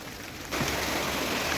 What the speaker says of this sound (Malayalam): ഈ ചൂട് മണ്ണിലിങ്ങനെ മഴ പെയ്ത് വരുമ്പോഴത്തേക്കും